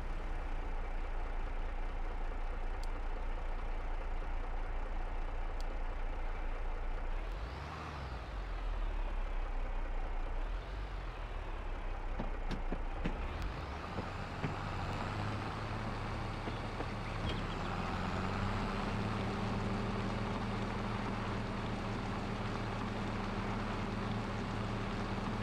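A tractor in Farming Simulator 22 drives with a steady low diesel drone, faint and constant. Midway through, the engine note shifts and rises into a louder, harder-working hum, with brief whooshing swells.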